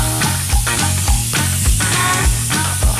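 Garlic and onion frying in a pan with sausage and bacon give a loud, steady sizzle, with rhythmic stirring scrapes repeating about every half second.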